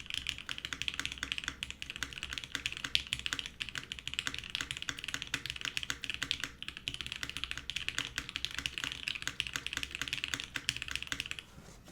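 Steady, continuous typing on a mechanical keyboard fitted with Gateron Ink switches, a dense run of crisp keystrokes close up with no talking.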